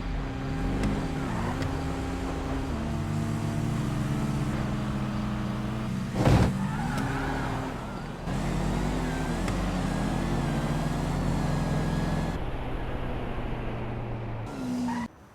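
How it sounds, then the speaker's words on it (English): Cars drag racing in the video game GTA V, a GT Classic against an Imperator: steady droning engines rev and pitch up through gear changes, with a sharp burst near the middle and a sudden cut near the end, without talk. "We got DJ in his GT Classic and Country in the Imperator"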